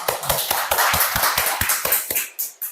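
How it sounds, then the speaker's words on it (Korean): A small audience at a Korean community discussion event gives a brief round of clapping, distinct hand claps in a quick, uneven rhythm, close and fairly loud, tapering to a few final claps. "박수."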